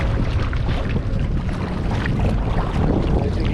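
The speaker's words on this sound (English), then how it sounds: "As you can feel, it's windy now. It's about force 3 to force 4." Steady force 3 to 4 wind buffets the microphone while kayaking at sea off Malta, a loud, constant roar with low rumble and choppy water beneath, no voices.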